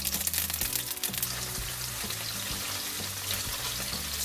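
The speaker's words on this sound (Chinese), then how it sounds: "咱们先向锅里边倒点食用油，然后将豆腐煎至两面金黄" Tofu pan-frying in cooking oil in a wok, a steady dense sizzle running throughout at close range, with faint scraping and clinks of a utensil now and then, no talking.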